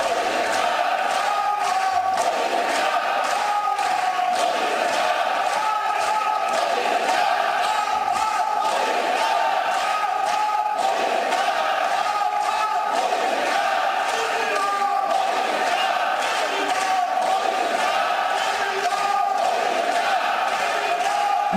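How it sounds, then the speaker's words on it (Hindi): BJP and NDA MPs in the Lok Sabha chanting slogans in a loud, rhythmic crowd roar with clapping, sustained throughout. "जब प्रधानमंत्री नरेंद्र मोदी आज लोकसभा के अंदर एंट्री करते हैं तो कैसे बीजेपी के जो तमाम सांसद हैं, जो एनडीए के सांसद हैं, उन्होंने शानदार नारेबाजी की"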